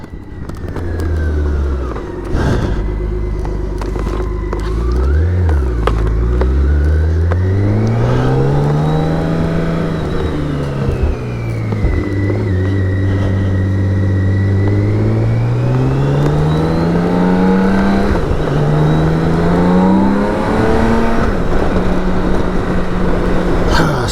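A BMW K1600 GTL motorcycle accelerates hard along the Autobahn, its engine note rising through repeated gear changes with a loud, continuous roar and strong wind rush, no voices.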